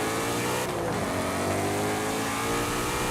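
A Ford Mustang Shelby GT350R V8 in Forza Horizon 5 revs loudly and steadily, its engine note sustained close up with a brief dip partway through and no talking.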